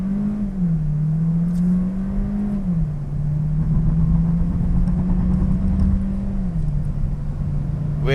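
A Volkswagen Golf 1.4 TSI R-Line on the road gives a steady engine drone from the cabin. The pitch dips briefly several times as the driver shifts gears by hand, and no one speaks.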